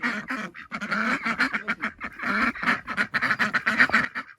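Ducks of a threatened breed at a homestead coop at bedtime, quacking loudly and close in busy, overlapping calls with hardly a pause.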